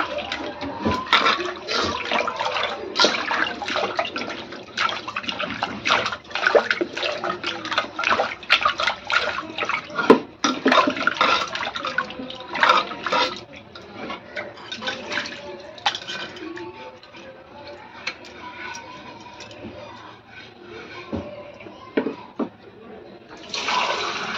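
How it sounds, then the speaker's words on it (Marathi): Water runs and splashes into a tub used for washing new clay pots, with irregular knocks and clatter of the pots throughout, loud at first and somewhat quieter toward the end. "आता आपण टपामध्ये पाणी घेतले"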